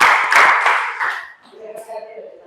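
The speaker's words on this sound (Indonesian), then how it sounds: "tepuk tangan untuk kelompok 3." A classroom of students claps for group 3, a brief burst of scattered hand claps in the first second that fades quickly, followed by a voice speaking.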